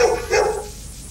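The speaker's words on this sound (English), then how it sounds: "That dog is fucking irritating." A dog gives two quick, loud barks close by indoors, the second fading into a short trailing yelp.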